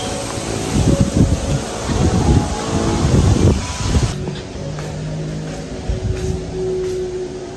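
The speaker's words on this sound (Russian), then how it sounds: "ветер, да, задувает" Wind gusts on Bali buffet the microphone with rumbling blasts that ease off into a steadier, quieter breeze.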